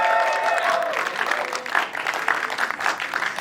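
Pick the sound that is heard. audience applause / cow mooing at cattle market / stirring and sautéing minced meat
audience applause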